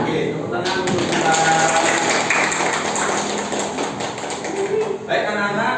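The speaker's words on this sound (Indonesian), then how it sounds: "Oke, tepuk tangan untuk kita." A classroom of students clapping hands in a lesson, a sustained dense round of claps from many pupils close by, lasting several seconds before stopping, with voices mixed in.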